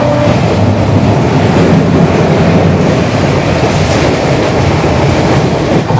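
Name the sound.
train entering Uluberia station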